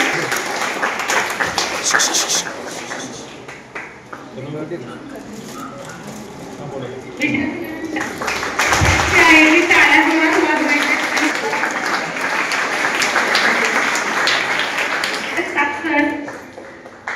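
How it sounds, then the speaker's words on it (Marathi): An audience at a school felicitation of students during a high school Sharadotsav celebration claps in a sustained, rustling wash. Voices talk and call out over it, and it swells louder in the second half. "टाळ्या वाजवायचे विद्यार्थी सत्कार होत आहे."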